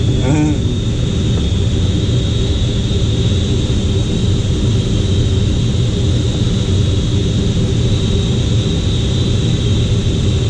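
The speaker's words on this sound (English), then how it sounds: "Keep your eye on the tow plane." A light aircraft towing a glider in flight drones as steady broadband engine and wind rumble from inside the cockpit, continuous and loud from start to end, with no speech heard.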